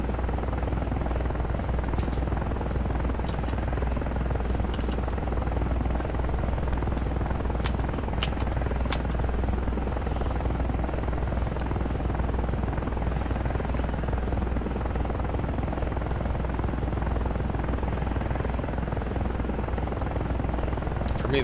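An AH-64 helicopter flying in the DCS World flight simulator, a loud, steady rotor and engine drone that runs unbroken for the whole stretch, with faint intermittent clicks on top.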